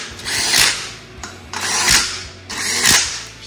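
Working repair shop with mechanical whirring and air-tool bursts rising and falling in three waves, with a steady low hum underneath and no clear talk.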